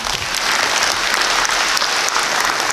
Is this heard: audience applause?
yes